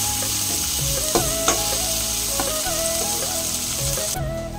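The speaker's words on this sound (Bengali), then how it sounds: "পেঁয়াজ আর ক্যাপসিকামটা দিয়ে দিলাম। আবার একটু লবণ দেবো, তাড়াতাড়ি সফট হয়ে যাবে। দেখো এর মধ্যে দিলাম লবণ, এবার এটা ভাজবো।" Onion and capsicum fry with salt in a pan for an egg chicken roll filling, a steady close sizzle with a few sharp scraping clinks of the spatula, no talking.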